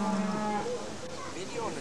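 At the Royal Manx Agricultural Show on the Isle of Man in 1998, a cow lets out a single drawn-out moo that trails off, close and fairly loud over faint background crowd noise.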